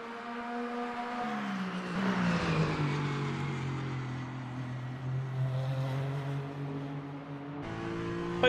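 Lamborghini hypercar engine in a racing simulator game drones steadily throughout, its tone dipping and climbing with the revs, loud and continuous with no talk over it.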